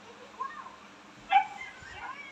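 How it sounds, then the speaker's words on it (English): A dog whimpers and gives a few excited yips at a family home in the Philippines. The calls are short, high and fairly faint, with one louder yelp midway over quiet background noise. "Oh, look at the doggy too"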